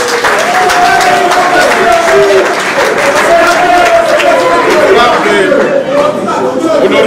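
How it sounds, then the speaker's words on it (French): An audience at a formal political assembly with senators and deputies breaks into sustained, loud applause that fills the hall, with chatter and a few voices mixed into the clapping throughout. "Applaudissons ça."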